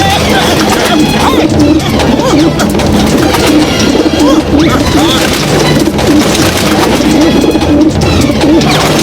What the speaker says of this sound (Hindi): घर में कबूतरों ने हमारा जीना मुश्किल कर दिया है।